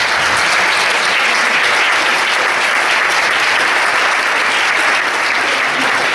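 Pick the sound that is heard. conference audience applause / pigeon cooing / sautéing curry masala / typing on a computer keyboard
conference audience applause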